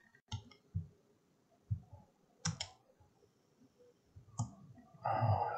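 Computer mouse clicking while working in CAD software, several sharp isolated clicks spaced apart in a quiet room, ending in a brief louder burst of noise.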